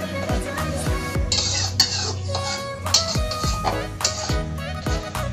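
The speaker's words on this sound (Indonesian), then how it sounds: "Ini kita aduk lagi ya" Sliced petai, red chili and scallions stirred in a cooking pan, with a utensil scraping and knocking against the metal in a quick repeated rhythm, close and moderately loud.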